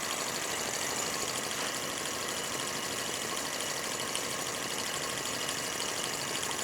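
A model helicopter motor runs in a continuous, dense buzzing whine, close and steady throughout, with no speech.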